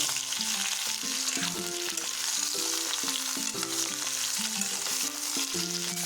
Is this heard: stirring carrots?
yes